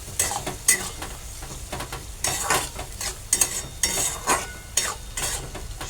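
Fish oil cooks in a pan with a steady sizzle and frying crackle, while a utensil stirs and scrapes in repeated close, uneven strokes, without any talking.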